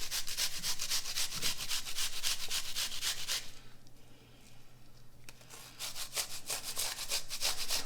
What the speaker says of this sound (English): I'm going to take my grater, just grate a little in, juice and all, about a tablespoon maybe.